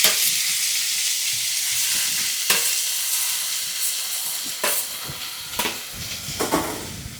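Chopped spinach sizzles with garlic in hot oil, a steady close hiss of frying with a few sharper crackles and stirring scrapes throughout.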